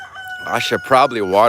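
Chickens in a home garden give a brief, loud, close rooster-like crow mixed with clucking, heard alone without talk.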